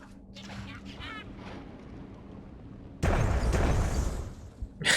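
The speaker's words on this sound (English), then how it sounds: "It's fun just to watch the explosion go on and" An explosion goes off in the strategy game Myth: Soulblighter, a sudden loud burst landing partway through after quieter battle sounds, with someone talking over the earlier part.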